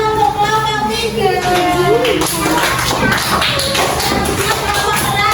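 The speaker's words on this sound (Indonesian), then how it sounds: "Tepuk tangan untuk kelompok 3." Schoolchildren in a classroom clap for a group of classmates, a busy patter of small hands mixed with taps, thumps, shuffling and children's chatter close by.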